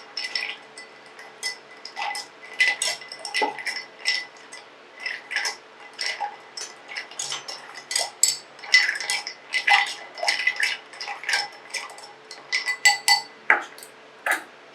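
Gin being stirred with ice in a mixing glass, a fast rhythmic run of bright clinks and ticks as the cubes rattle against the glass, close and steady, with no talk.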